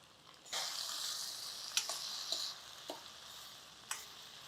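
Two red tomatoes dropped onto softened onions in a hot pan, a sudden bright sizzle bursting in and holding steady, broken by a few sharp clicks and taps of stirring.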